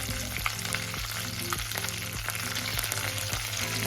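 Curry leaves, with a little chana dal, sizzle and crackle in hot oil while tempering for raw tomato chutney. A steady, close frying hiss runs throughout with no talking.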